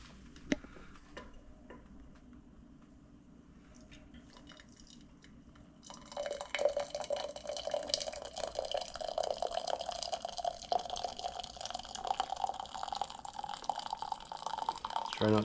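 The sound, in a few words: syrup pouring from a valve into jars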